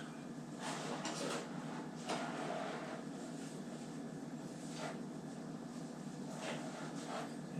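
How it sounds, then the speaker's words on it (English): Home-canned jars of pressure-cooked trout sit cooling while their metal lids pop one by one, sharp isolated clicks scattered at irregular intervals over a steady background hiss, fairly faint and with no talking. "You can hear all the lids starting to pop as they cool down a little bit"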